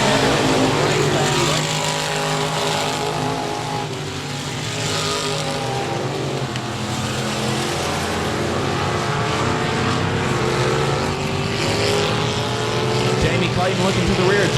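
Race cars lap the 67 Speedway in Texarkana, a dense, continuous engine roar that swells and fades slightly as the pack rolls into a turn.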